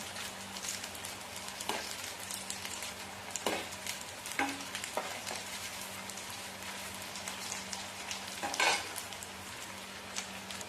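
Dill leaf vadis fry gently in oil over low heat with a soft, continuous crackle, while a few clear scrapes and clacks of a spatula mark them being flipped in the pan.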